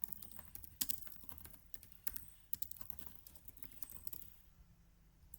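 Personal details typed on a computer keyboard before an online children's prayer recitation test, a steady stream of near keystrokes with occasional louder taps, ending in a quieter stretch.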